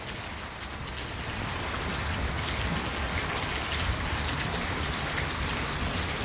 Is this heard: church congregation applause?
no